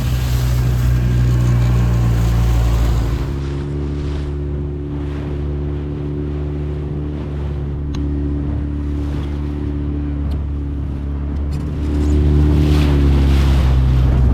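A duck-hunting boat runs in through waves and strong wind after a morning hunt, producing a loud, steady engine drone and hull rumble. Heavy wind buffets the microphone and water rushes past throughout, and the engine note shifts near the end.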